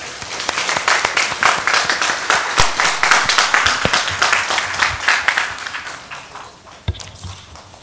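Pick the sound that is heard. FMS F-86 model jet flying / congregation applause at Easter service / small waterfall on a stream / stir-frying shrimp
congregation applause at Easter service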